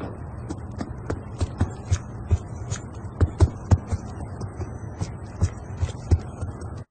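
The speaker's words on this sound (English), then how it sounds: "let's listen into what footsteps sound like when you have awareness and your enemy does not have dead silence on" Footsteps in the video game Black Ops 2 with the Awareness perk on, heard as a steady series of soft, thudding steps at walking rhythm over a low background hum, clearly audible and without speech.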